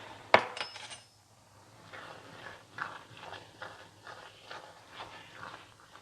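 Vegan taco mince being stirred with salt in a pan: a sharp metallic clink at the start, then soft, irregular scrapes and pushes of a utensil through the thick mince, close and quiet, with no talking.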